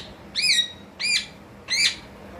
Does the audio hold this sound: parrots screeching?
yes